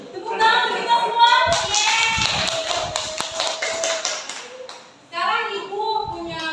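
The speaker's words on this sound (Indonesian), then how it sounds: "Tepuk tangan kita semua." A classroom of Indonesian schoolchildren claps in unison, a loud, rapid patterned rhythm of hand claps that pauses briefly, with children's voices chanting and talking over and around it.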